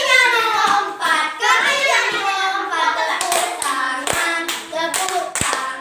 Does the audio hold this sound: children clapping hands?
yes